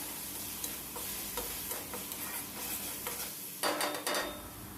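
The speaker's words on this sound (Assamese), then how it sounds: "তাত দি দিছোঁ মই হালধি, জিৰা গুড়ি আৰু গৰম মছলা পাউডাৰ। গোটেইখিনি ভালদৰে লৰাই লৈছোঁ।" A spoon stirs turmeric, cumin powder and garam masala through a pan with a soft, continuous sizzle. Scraping accents come at intervals, with a pair of brighter clinks near the end. No voices.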